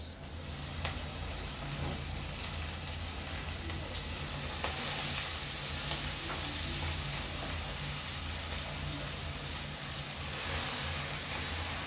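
Kale greens tossed into a hot frying pan hiss and sizzle steadily, a dense, even crackle with occasional stirring clatters, no voices.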